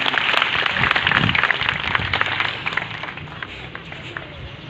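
Audience applause fills a hall at a tribute event for Father Francis, dense and sustained, then gradually fading in loudness toward the end.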